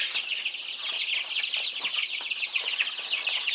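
Three-week-old chicks in a brooder cheep busily in a constant high chorus of overlapping peeps, close and fairly quiet, with no talking.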